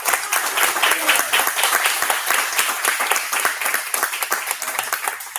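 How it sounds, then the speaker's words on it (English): Steady, dense applause from a large audience at a presentation, many hands clapping continuously at an even level throughout, with no talking. "let's give them another round of applause."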